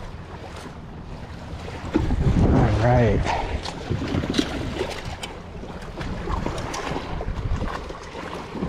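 Water splashes and slaps close against the hull of a small fishing kayak amid wind noise, while a person speaks briefly.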